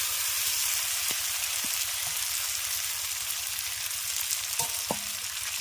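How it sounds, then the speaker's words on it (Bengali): Fried vegetables tumbling into a spice paste in a pan, with a steady loud sizzle of frying throughout and a few soft clinks and stirring scrapes, no voices. "এবার ভেজে রাখা সবজিগুলো এর মধ্যে দিয়ে দিচ্ছি"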